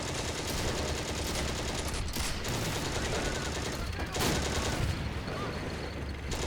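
An anti-aircraft gun keeps firing in the tank game Steel Fury, a sustained loud stream of rapid gunfire with a few heavier thumps layered through it, unbroken for several seconds.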